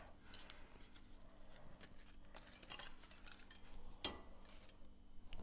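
Metal cutlery, a fork and knife for a holiday place setting, is handled close by, giving a few sharp clinks and light scrapes among quiet rustling, with no speech.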